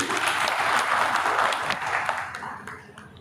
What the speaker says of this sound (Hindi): कृष्ण कुटेल जी के लिए एक बार ताली जरूर